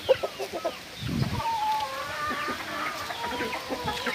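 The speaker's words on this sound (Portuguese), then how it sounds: "Um frango novo também de oito meses. galinha, tá ali ele." Chickens on a farm cluck and murmur nearby, including young eight-month-old birds, with a few sharp clucks at the start, then a busy overlapping chorus of softer fowl calls.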